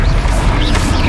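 A Levioso levitation spell is cast in combat in the video game Hogwarts Legacy, a loud, dense burst of magical effects over thick, continuous background game sound.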